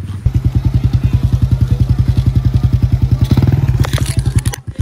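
Motorcycle engines idle and rev together in a loud, steady pulsing drone with rapid regular firing beats, close by, swelling briefly near the end during a group motorbike ride in Tanay, Rizal.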